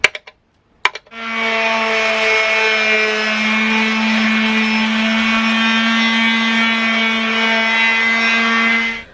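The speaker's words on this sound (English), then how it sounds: "I've just drilled in there, and in there" A power drill whirs steadily at a constant high pitch for several seconds after a couple of brief knocks, close and loud, with no talking, while working on a hearse.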